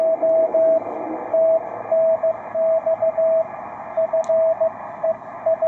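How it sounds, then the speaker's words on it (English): Morse code CW tone received on a Ten Tec Paragon radio, a steady pitched beep keyed into dots and dashes over a constant bed of hiss and static, loud and continuous. "You can hear him, you can hear the CW now."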